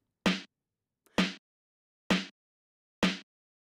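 Two snare drums layered into a single hit in an Ableton drum rack strike four times at an even, unhurried pace, each crack crisp and short with silence between.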